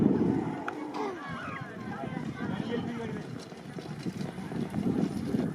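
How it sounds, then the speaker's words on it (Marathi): Bulls pulling carts in a bullock cart race, with rapid hoofbeats pounding on the ground over crowd noise and an excited commentator talking throughout. "बैल बघा कसे पळत आहे."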